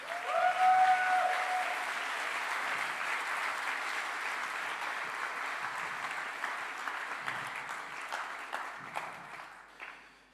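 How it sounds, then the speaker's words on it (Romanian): A church congregation applauds steadily for about ten seconds, a broad even clatter of many hands that holds fairly level before thinning out toward the end, with a brief tone at the start. "Da, putem să le aplaudăm."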